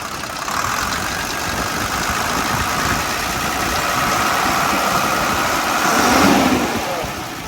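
A Nissan UD FE ten-wheel truck's diesel engine runs steadily close by, a loud continuous idle with a slight rise in revs near the end.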